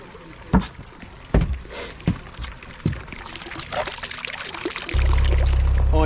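Water pours and trickles in a canal lock on a narrowboat route, with a few knocks and splashes, then a steady low rumble near the end.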